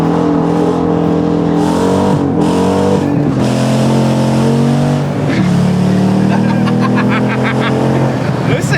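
Dodge Challenger R/T with independent rear suspension accelerates, its loud, deep engine note climbing and dropping through several revs, heard from inside the car, with people talking over it.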